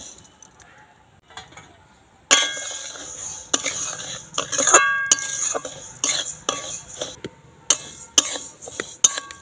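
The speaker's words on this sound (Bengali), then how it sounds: "আমি খিচুড়িটা করব মুগের ডালে, তার জন্য মুগের ডালটা আগে ভেজে নেব।" Moong dal is dry-fried in a kadai on a stove, with a metal spatula scraping and clinking against the pan in irregular strokes, some sharp and bright, and faint sizzling in the quiet moments between.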